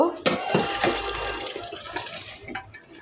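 Water is poured into a cooking pot of spices, a splashing, gurgling pour with brief clatters, while a voice talks in the background.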